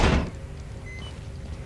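A door shuts in the Outlast asylum with one sharp, fairly loud thunk at the start, then fades into a quiet, hollow room ambience.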